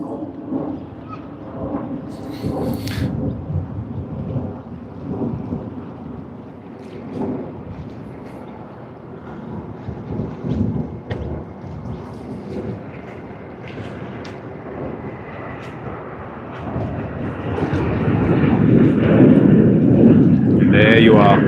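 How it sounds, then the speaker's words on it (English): A Qantas Boeing 737-800 departs Sydney for Hamilton Island, its low rumbling engine roar building and growing louder near the end, with a voice speaking over the early part. "we have Boeing 737-800 of Qantas, Sydney to Hamilton service, Hamilton Island service. It's just going to be taking off"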